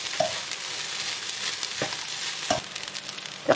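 Rice and salted dried fish stir-fried over high heat in a pan, a steady loud sizzle with occasional sharp clinks and scrapes of a utensil against the pan, no voices.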